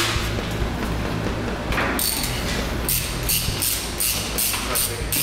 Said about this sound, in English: What you'll do is crack this loose.